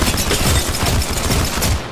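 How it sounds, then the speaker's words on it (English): Dense video-game gunfire from enemies rattles continuously for two seconds, a loud overlapping barrage of rapid shots filling the whole stretch. "The enemies are shooting."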